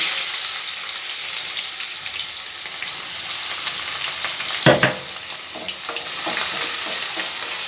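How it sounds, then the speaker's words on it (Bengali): Grated onion frying in a pan, a dense continuous crackling sizzle with a brief stir or clatter midway and the frying swelling slightly toward the end, no voices. "পেঁয়াজটাকে একটু ভালো করে ভেজে নেবো"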